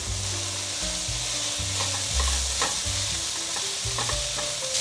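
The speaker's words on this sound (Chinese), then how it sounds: "把所有调味料炒匀，让调味料融合进去食材里面。" Cabbage and potato being stir-fried in a pan with salt, black pepper and ketchup: a loud, steady sizzle with the scrape of stirring, alone and without speech.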